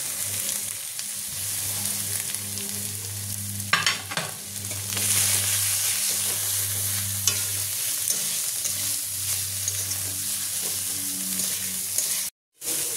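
Chicken masala with cashew paste, green chilli and chopped coriander sizzling and frying steadily in a pan, with occasional stirring scrapes throughout and a brief cut near the end.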